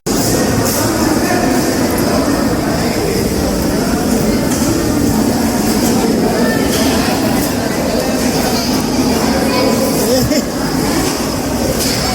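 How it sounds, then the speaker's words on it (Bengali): A train runs along a road, producing a loud, steady rumble of rolling rail cars throughout with faint hints of wheel clatter and background voices. "তোমরা কি জানো রাস্তা দিয়ে ট্রেন চল ট্রেন ট্রেন"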